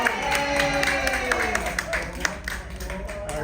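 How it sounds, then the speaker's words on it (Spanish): Applause for a woodcarving teacher at a sculpture workshop, scattered hand claps from a small group, fairly close, mixed with voices talking over them. "un aplauso, maestro"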